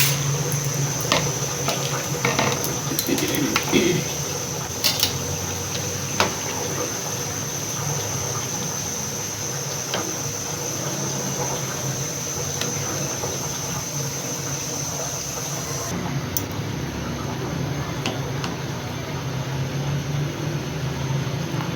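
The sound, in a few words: macaroni boiling in salted water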